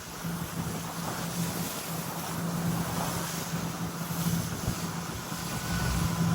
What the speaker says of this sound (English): the engine's happy. Running, you can tell she's running real easy